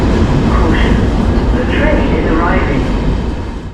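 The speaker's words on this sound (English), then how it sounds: "And our next train arrives in from Dortmund on time." A Deutsche Bahn train pulls into a station in Germany, a loud, close rumble with screeching and hissing brake tones that eases off toward the end.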